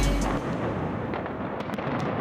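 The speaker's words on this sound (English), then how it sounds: "Turns out it's fireworks." Fireworks heard from indoors register as a dense, muffled crackling roar, continuous and fairly loud throughout, with no speech.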